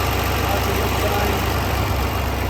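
A 2018 Kenworth T800 heavy-spec truck with a Paccar MX13 diesel idles close by, a steady, loud low rumble with a continuous even drone and no breaks.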